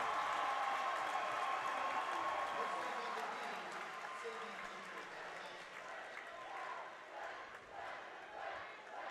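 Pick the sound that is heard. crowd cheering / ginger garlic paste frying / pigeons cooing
crowd cheering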